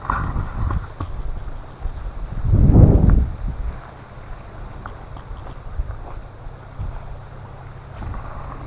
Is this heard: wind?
yes